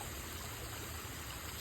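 Steady, dense rushing of a waterfall flowing continuously, a broad even wash of falling water that holds constant from start to end with no voices.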